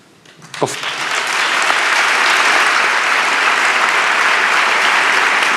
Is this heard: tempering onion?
no